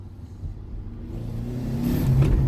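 A turbocharged car engine revs steadily higher over a low, continuous drone, the roar growing louder toward the end with no talk over it.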